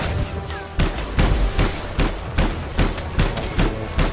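Rapid bursts of gunfire from the Anthem video game, with a dozen or so loud, evenly spaced heavy shots thumping over a dense battle backdrop, with no talking.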